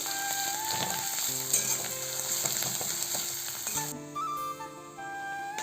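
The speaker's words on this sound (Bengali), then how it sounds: "আদা রসুনের পেস্টটাকে দিয়ে দিলাম হালকা করে নাড়াচাড়া করে নেব একসাথে" Ginger-garlic paste sizzling with onions in hot oil, stirred for a Bengali soybean curry, a steady close frying hiss with occasional soft utensil scrapes, no voices.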